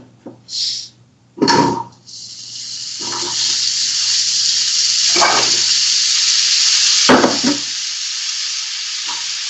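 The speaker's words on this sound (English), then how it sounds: "Hopefully you guys can hear me over the frying pans." Loud, steady sizzling of oil frying in pans fills most of the clip, preceded by a few short clatters and bursts of hiss.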